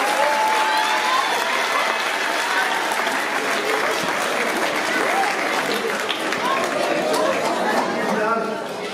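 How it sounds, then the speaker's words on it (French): An audience at a French community event applauds the cooks who made the buffet, a loud, sustained round of clapping with lively chatter and voices mixed in until it fades at the end. "On peut les applaudir."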